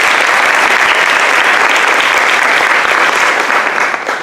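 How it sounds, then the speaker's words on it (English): Loud, sustained audience applause for a school PTA Council, a thick wash of clapping from a large crowd that stays full and even before easing slightly at the end. "So please join me in a round of applause."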